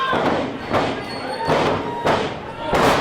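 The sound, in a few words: wrestler slammed onto the ring mat, power slam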